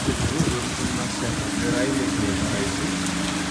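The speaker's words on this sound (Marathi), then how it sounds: "आज बाहेर पाऊस चालू आहे डेंजर पाऊस चालू आहे आज" Dense, steady roar of heavy rain pouring down, with a person talking underneath near the start.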